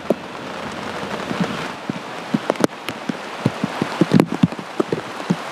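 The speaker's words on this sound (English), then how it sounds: "listen to the rain come in overhead and the storm roll through" Heavy rain drums steadily, with irregular louder drops and splats striking a nearby surface over a constant wash of patter.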